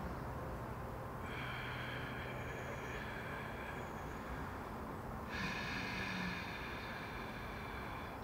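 A slow breathing exercise: two long, breathy airflow sounds, a steady exhale then an inhale, close and soft over a faint background hum.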